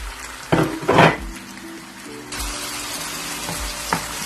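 Sliced tomatoes hit hot oil in a beef karahi, giving a couple of sharp sizzling bursts followed by a steady frying hiss with faint clinks of stirring.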